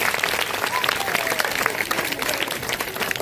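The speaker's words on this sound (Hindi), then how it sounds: "ताली बजाओ ना" An audience applauds steadily at a devotional gathering with bhajan singing and a Sudama tableau performance, dense continuous clapping from a crowd with a voice faintly mixed in.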